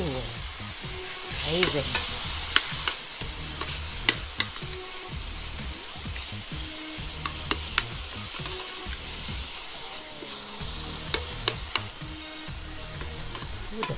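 Spaghetti sauce sizzles in a pan as it is stirred, a steady frying hiss broken by repeated sharp scraping and clicking strokes of the utensil, close and fairly loud, with a brief spoken word.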